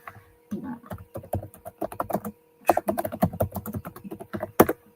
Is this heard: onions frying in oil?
no